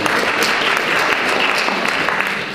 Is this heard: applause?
yes